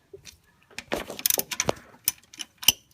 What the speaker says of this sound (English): Remove the top alternator bolt with a 15mm wrench.